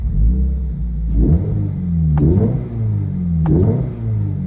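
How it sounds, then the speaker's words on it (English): A 2024 Subaru BRZ Limited engine revs hard three times in succession, each surge climbing in pitch over a steady loud idle rumble. "Let's give a few revs."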